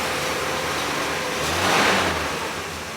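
A 1964 Pontiac 389 V8 idles with an exhaust leak at the manifold-to-downpipe flange, a steady close rumble with a hissy, popping edge that swells briefly mid-way.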